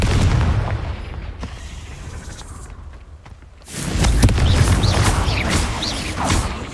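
Confringo fire spell blasting in Hogwarts Legacy, a quieter rumbling passage giving way around the midpoint to a loud, sustained explosive roar with sharp bursts and crackles, no talk.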